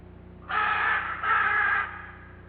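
Scarlet macaws calling in flight high over a rain forest, two harsh, raspy squawks in quick succession, fairly loud and close, each lasting over half a second with no talking.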